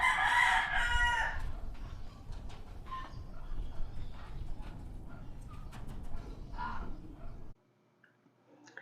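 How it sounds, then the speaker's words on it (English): Roosters in the Philippines crow loudly nearby at the start, followed by quieter crowing and clucking farther off through the middle, with the sound cutting out near the end. "The roosters will drive you crazy."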